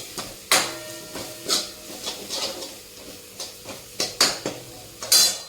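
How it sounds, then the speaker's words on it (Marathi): Soybean bhaji with turmeric and coriander powder being stir-fried in a pan, a spatula scraping and clanking against the metal in close, irregular knocks over a soft background, with no talking. "आता हे चांगलं परतून घ्यायचं."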